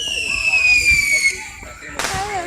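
A consumer firework called Lightning 2 goes off nearby, a whistling rising tone followed by a sharp burst of crackle near the end, with people talking over it.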